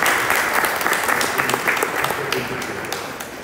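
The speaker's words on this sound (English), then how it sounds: "Let's give a big round of applause" Audience at an annual general meeting applauding, a dense steady burst of clapping that fades slightly toward the end, with some background voices mixed in.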